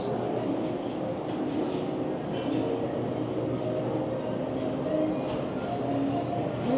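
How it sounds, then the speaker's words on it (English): Steady rumble and rolling noise of a subway train in Toronto's underground Queen Station, continuous and moderately loud, with faint squeals and murmuring voices in the background. "Another subway station."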